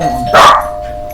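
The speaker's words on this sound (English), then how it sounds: "Excuse my dog." A single sharp bark from Scooter, a pet watchdog, comes close and loud indoors over a steady electrical tone and quiet room noise.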